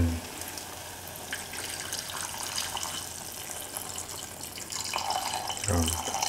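Milk, about 400 ml, poured into a pan while making sweet banana porridge; a steady liquid stream runs for several seconds, close and moderately loud, with a brief louder splash near the end.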